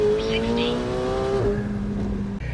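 A McLaren 750S Spider launches and accelerates hard, the engine note climbing steeply through a gear before a quick shift drops the pitch. The sound is loud and close, with a brief tire chirp, and a voice is heard faintly underneath.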